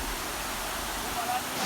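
Thundola Ella waterfall in Pitabeddara, Matara District, Sri Lanka, a steady broadband rush of falling water that holds even and continuous throughout, close and full.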